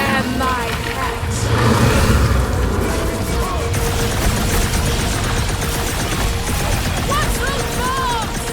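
Bombs explode in the Guardians of the Galaxy video game, a dense, continuous barrage of booms, blasts and gunfire-like crackle that stays loud throughout, with a car blowing up amid the battle.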